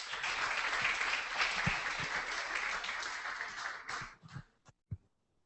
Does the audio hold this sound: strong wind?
no